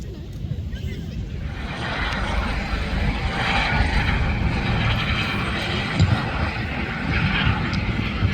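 A propeller-driven warbird with an elliptical wing, Spitfire-like, performing a side slip at the Midlands Air Festival air display, its engine droning steadily and fairly loud throughout, swelling slightly after the first couple of seconds, with crowd ambience underneath.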